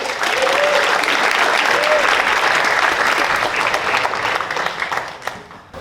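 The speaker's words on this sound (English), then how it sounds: "Ladies and gentlemen, a big round of applause for Chris." An audience applauds at a magic show in a sustained, loud burst of clapping that fades out near the end.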